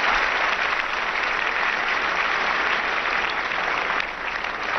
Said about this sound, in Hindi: इनको जोरदार तालियों से हम स्वागत करेंगे